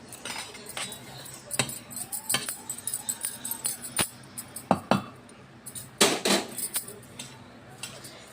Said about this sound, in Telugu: ఈ రెండింటిని మంచిగా మిక్స్ చేసి పెట్టుకోవాలి